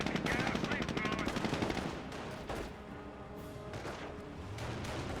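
MG42 machine gun fire in the World War II strategy game Company of Heroes, a fast rattling burst for two seconds followed by scattered distant shots and battle noise.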